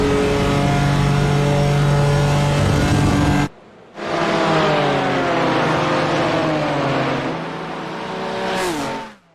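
BMW M4 GT4 race car in iRacing's IMSA Michelin Pilot Challenge at Watkins Glen, its engine droning loud and steady, cutting out briefly, then returning with rising and falling revs through gear changes before fading at the end.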